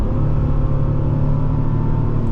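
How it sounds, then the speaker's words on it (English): A 2008 Bentley Continental GT engine pulls under acceleration as a steady, loud, deep rumble with a smooth droning tone, heard from inside the cabin with no talking. "There's really quick response from the throttle, so we're, you know, able to modulate how we want."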